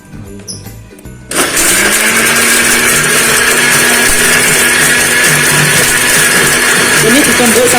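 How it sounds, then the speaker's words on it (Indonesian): A kitchen blender kicks on after a short quiet moment and runs loud and steady, whirring through ingredients mixed with a little water until the end. "Kita blender"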